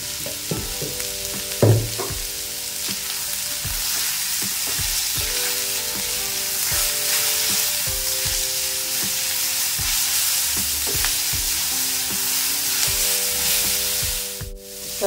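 Vegetables stir-frying in a pan for Chinese-style vermicelli, giving a loud, continuous sizzle with repeated spatula scrapes and taps against the pan and no speech.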